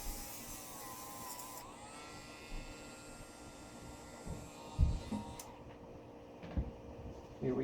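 Dremel rotary tool sanding an airsoft barrel, a steady high-pitched whine with a drop in speed, then lower buzzing and scattered knocks of the workpiece, close and fairly quiet.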